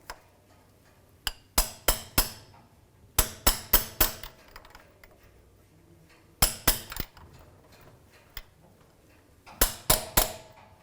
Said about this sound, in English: or just give it a tap with a hammer,